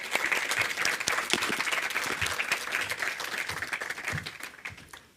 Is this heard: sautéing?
no